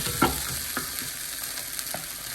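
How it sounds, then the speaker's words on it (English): Minced meat and bitter gourd sizzle steadily in a hot pan, a constant crackling hiss with occasional small pops and stirring sounds. "See the sizzling part?"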